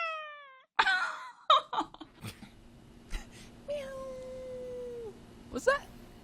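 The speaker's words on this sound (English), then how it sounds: "Was that a real meow?" A cat meows in short, plaintive calls among bursts of other sounds, including one long, drawn-out cry near the end. People talk and laugh around it on a live stream.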